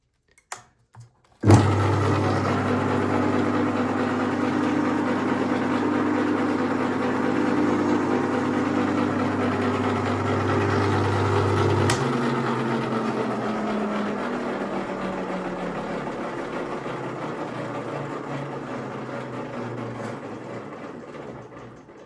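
An electric motor drives a drum shell polisher through 3D-printed gears, including a TPU sprocket. It starts abruptly and runs as a steady mid-pitched whir with a gear hum, then eases slightly lower partway through and carries on alone to the end.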